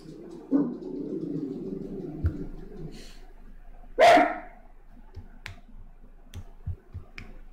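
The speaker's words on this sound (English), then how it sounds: "I heard the dog talk." A single dog bark rings out sharply once in a quiet indoor setting, preceded by a low murmur and followed by scattered light clicks and taps.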